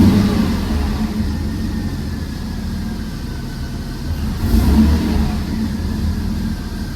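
A Mercedes C32 AMG W203 engine running on E85 idles steadily, then a throttle blip swells and fades, the revving heard up close with no talking.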